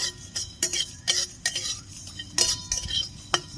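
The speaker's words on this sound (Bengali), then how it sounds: "গোটা জিরে দিয়ে দিচ্ছি তিনটে শুকনো লঙ্কা দিয়ে দিচ্ছি গোটা ধনে সব হালকা করে ভেজে নেব" A spatula scrapes and clinks against a pan as whole cumin, dried red chillies and coriander seeds are lightly fried, giving irregular close strokes over a faint sizzle.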